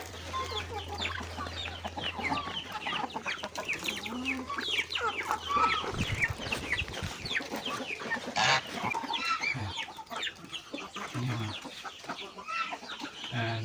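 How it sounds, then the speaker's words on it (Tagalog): Chickens cluck and chatter continuously at close range, with varied calls overlapping in a busy farmyard chorus. "mga manok"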